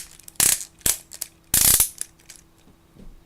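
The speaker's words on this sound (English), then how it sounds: "Beautifully loud ratcheting on this really detailed trans skeleton is what it's called" Ratcheting joints on a detailed Transformers toy skeleton being moved, giving two loud bursts of sharp, rapid clicks with a few lighter isolated clicks between and after them, close and with no talk.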